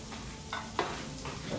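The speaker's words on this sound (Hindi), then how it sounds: "इसे हमें बहुत ज्यादा नहीं पकाना है, सिर्फ सौते करना है हल्का सा" Carrots, green chili and garlic sautéing lightly in a pan for momo filling, with a soft sizzle and a couple of quiet spatula stirs, close and fairly faint.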